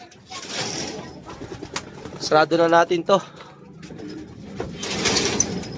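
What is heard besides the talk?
pigeons cooing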